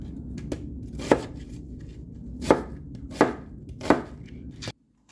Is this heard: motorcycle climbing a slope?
no